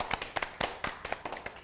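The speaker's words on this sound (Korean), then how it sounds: "우리 내빈분들께 다시 한번 큰 박수 부탁드리겠습니다." Scattered applause for guests at a picture-book psychology research institute launch ceremony: a handful of separate, fairly faint claps in an uneven rhythm, sounding like only a few people clapping.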